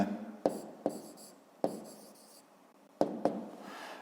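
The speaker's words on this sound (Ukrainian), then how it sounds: "Пишемо тоді 2 і записуємо" Pen writing by hand on paper while working a fifth-grade math exercise, with close, crisp scratchy strokes and sharp taps in short separated bursts against a quiet room.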